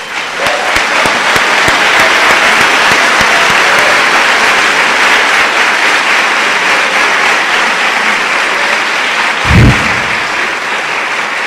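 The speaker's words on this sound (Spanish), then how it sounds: "les pido un gran aplauso" A large conference audience applauds, a loud, dense, sustained clapping that holds steady throughout, with a brief low thump near the end.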